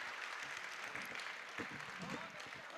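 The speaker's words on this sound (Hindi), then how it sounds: "तालियां जरा एक बार खूब जोरदार बजा दीजिए अनिल" Audience applause at a Hindi poetry gathering (kavi sammelan) in a school hall, a steady wash of many hands clapping throughout, with voices and crowd murmur mixed in underneath.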